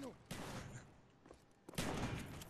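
Bursts of video game gunfire in an online shooter match, with a sharp volley near the start and a louder sustained burst toward the end, mixed with faint voices.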